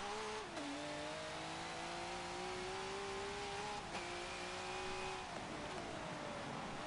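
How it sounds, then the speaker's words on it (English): A V8 Supercar engine in Forza Motorsport 7 at Brands Hatch drones steadily and loudly, its pitch climbing through gears with brief dips at each shift, running continuously with no talk. "I'll be quiet for a few moments, guys, so you can hear the sound of the V8 supercar"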